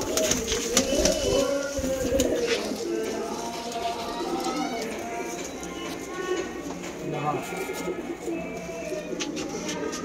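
Malwai pigeons coo softly and rustle nearby, with someone talking over them throughout and faint background noise.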